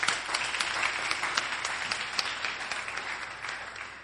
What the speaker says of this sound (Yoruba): ẹ jẹ́ á pàtẹ́wọ́ fún wọn.